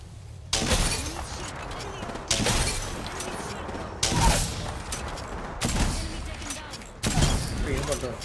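Sniper rifle shots in a competitive shooting video game: five loud, sharp blasts spaced a second or two apart, each with a ringing tail, while voices talk underneath.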